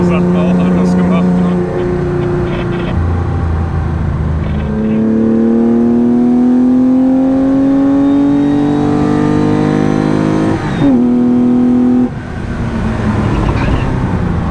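A Porsche F350 backdate race car driven at the Bilster Berg circuit: a loud in-cabin engine drone rising through the gears, with steady revving climbs and shifts and talk over it.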